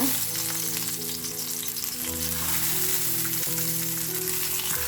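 Cut tomatoes fry in oil in a pan over a low flame, giving a continuous close sizzle with a low steady hum underneath and no talking.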